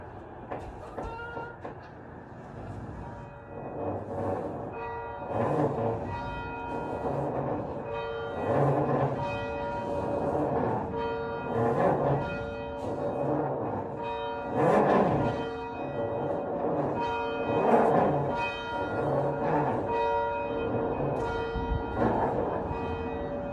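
A church bell rings repeatedly in a steady, resonant rhythm, each strike blooming and overlapping the lingering hum of the last.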